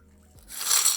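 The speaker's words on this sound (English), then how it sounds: "And then we're just going to pour this into the glass." A smash cocktail poured into a glass, a brief bright rushing splash that swells in after a quiet start and stays loud to the end.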